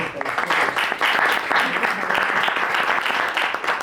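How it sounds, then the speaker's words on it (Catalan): An audience claps steadily at a talk with digital content creators, a continuous lively round of applause with rhythmic pulses from many hands, fairly close. "un aplaudiment"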